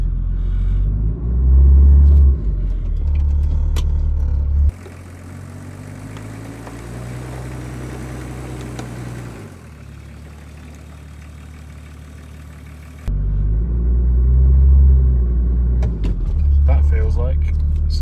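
A Range Rover P38 engine labours in low range while clambering uphill, a loud, steady rumble that deepens and shifts in tone partway through, close by and continuous.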